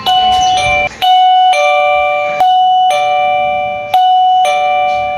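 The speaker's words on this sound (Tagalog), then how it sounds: "O siya, bale ito pa yung doorbell na tinutukoy." A home doorbell chimes several times in a row, each loud bright ding ringing clear and then fading, with the strikes coming at a steady pace and nothing else heard.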